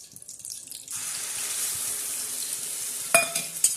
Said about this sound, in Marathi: ही पूर्ण अशी तेलामध्ये हे करून घेणार आहे तेलामध्ये पूर्ण फ्राय करून घेणार आहोत